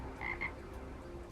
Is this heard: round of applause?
no